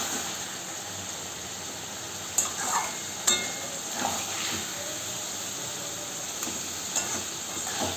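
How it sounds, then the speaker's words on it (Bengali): Katla fish pieces sautéed in a spiced yogurt masala, a soft steady sizzle broken by a few sharp clinks and scrapes of a utensil against the pan. "মাছগুলো একটু হালকা হাতে এভাবে মশলার সঙ্গে কষিয়ে নেবেন।"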